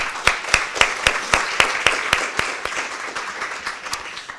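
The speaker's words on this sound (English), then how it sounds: "So I think they deserve a round of applause." Applause breaks out from a conference audience at a welcome session, a brisk run of distinct claps that starts strong and gradually thins and softens over a few seconds.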